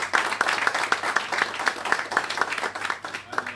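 Steady rhythmic clapping from an audience at a London town hall meeting and fundraiser, even beats about four per second, with crowd murmur and a voice speaking over it.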